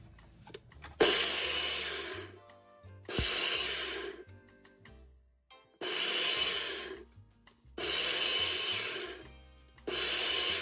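Green chilies and ginger juliennes being ground into a coarse mixture in a mixer grinder: five loud whirring bursts of a few seconds each, separated by short pauses, with no talking.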